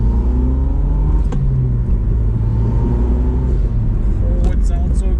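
A Mazdaspeed 6 car pulls hard close up, its engine rising and revving through a steady rumbling acceleration, with a brief shift-like break and a person talking faintly underneath.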